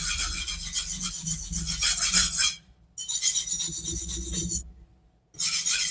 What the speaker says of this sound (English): I've got the Shapton 220 stone right here. I will just going to sharpen them at the quite high angle to just remove the chips out first.